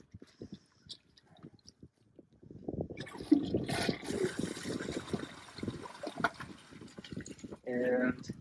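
A Toto Drake toilet flushes after a few quiet seconds, followed by a close, moderately loud rush and gurgle of water that lasts several seconds.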